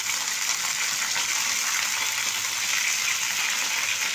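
Chicken sautéing in a pan for a potato and chicken tray bake, a continuous bright crackling sizzle with faint stirring, steady and close throughout with no voices.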